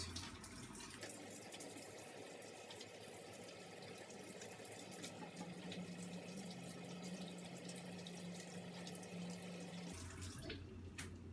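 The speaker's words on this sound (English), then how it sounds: "we're going to wash our hands for another 20 seconds" Running tap water streams steadily into a kitchen sink while hands are washed, a continuous close hiss and splash lasting about ten seconds before the flow cuts off, with a faint low pump-like hum beneath.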